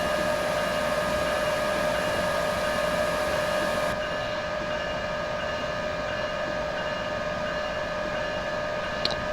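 An Amtrak train running in Train Simulator 2015 gives a steady, loud mechanical drone with sustained tonal whines and hum throughout. It carries on without a break and there is no talk.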